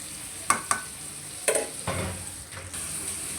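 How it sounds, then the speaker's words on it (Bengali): Beef coated in spices frying in a pan, with a soft sizzle punctuated by several sharp clinks and scrapes of a utensil as the meat is stirred up close. "গরুর মাংসটা এখন ভালো করে কষায় নিব।"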